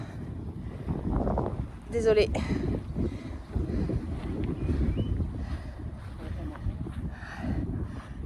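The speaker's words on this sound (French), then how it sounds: "Il y a du vent." Wind buffets the microphone in low, rumbling gusts throughout, with a person briefly speaking partway through.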